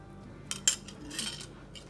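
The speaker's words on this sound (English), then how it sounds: "we cut up the pepper" A knife cuts a pepper on a board while a mango curry is prepared, giving a few quiet, sharp taps and scraping clicks over a faint background hum.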